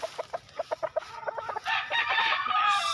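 Chickens in a small backyard coop give a quick run of sharp, rhythmic clucks, then one bird breaks into a loud, drawn-out call close by.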